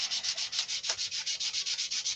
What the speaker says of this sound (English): You want to keep sanding until all them shiny spots are gone.